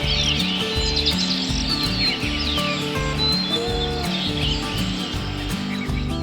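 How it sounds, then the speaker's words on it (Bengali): Birds chirping and singing in a green, heavily planted setting around an industrial site, several overlapping calls and tweets over a steady low mechanical hum and rhythmic background music. "এখানে সবাই পাখির ডাকে ঘুমিয়ে পড়ে, পাখির ডাকে জাগে"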